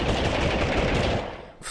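Rapid, continuous machine gun fire rattles from the Army Men 3D video game, loud and sustained before cutting off abruptly near the end.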